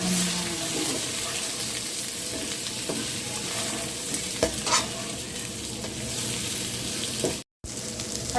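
Tofu fries and sizzles in a pan with black pepper while being stirred, a steady loud sizzle with repeated scraping strokes and one brief dropout near the end.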